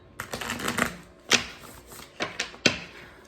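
Tarot cards being shuffled and handled, several quick crisp riffling and snapping bursts in an irregular rhythm, close and clear, with no talk.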